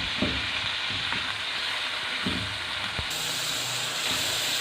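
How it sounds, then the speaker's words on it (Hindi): Beef mince frying in oil with onion in a pan, a steady close sizzle and hiss throughout, with a few soft stirring scrapes and knocks. "अब इसको हम थोड़ा सा ऑयल के अंदर फ्राई करेंगे कीमे को।"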